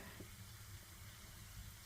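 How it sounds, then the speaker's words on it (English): Cumin seeds sizzle and crackle softly in hot oil while making sarson ka saag, a steady faint frying hiss with tiny pops, no voices. "जैसे ही ज़ीरा चटकने लगे"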